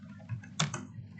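Quick, light keystrokes clatter on a computer keyboard while an IP address is entered for network setup, a short close burst of taps with one sharper clack in the middle.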